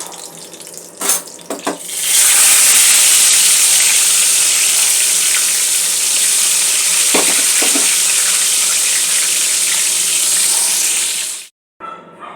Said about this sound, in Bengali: বাকি মাছগুলো এইভাবেই ভেজে নেব।